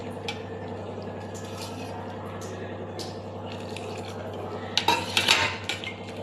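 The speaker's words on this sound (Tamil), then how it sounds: "கட்டி இல்லாமல் நம்ம கரைச்சிடலாம் தண்ணி ஊற்றி கையிலேயே" Urad dal batter, finely ground in a mixer jar, is mixed with water by hand for ulundhu kali, giving soft wet squelching and stirring, with a few louder clattering knocks of a vessel near the end.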